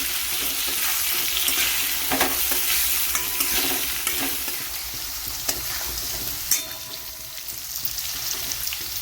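Potatoes dusted with turmeric powder fry in an oily pan, giving a steady close sizzle with repeated scraping stir strokes throughout.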